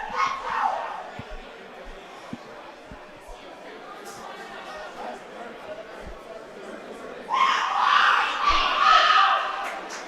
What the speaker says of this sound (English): what we can hear right now is Josh's girlfriend in the crowd. She is as intense can get